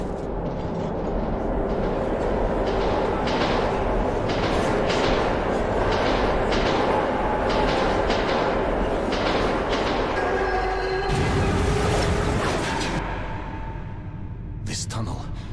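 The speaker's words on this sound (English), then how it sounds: "Ghost train." A ghost train rumbles through a tunnel in the Metro video game, a loud continuous roar with repeated clattering bursts and a rising screech near the end, under game dialogue.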